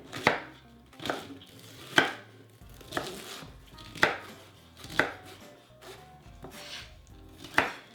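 A knife slices through a cabbage stood on its end, about ten firm crunchy cuts landing on a board at an even, unhurried pace, close up with no talking.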